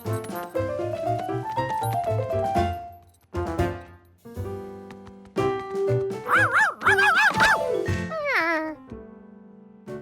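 A cartoon wiener dog (dachshund) in Curious George barks and yips excitedly in quick bursts over background music.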